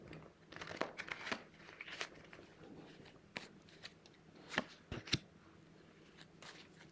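Cards being shuffled and handled close by, with soft riffling and crinkling bursts and a few sharper snaps, quiet and irregular.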